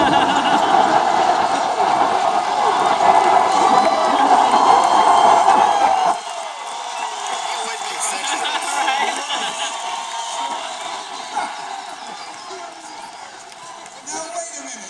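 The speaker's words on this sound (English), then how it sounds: "after everything you've heard of this convention so far, that gets the biggest cheer?" Convention audience cheering and clapping in a large hall, a loud sustained roar that drops off after several seconds and fades into scattered crowd noise.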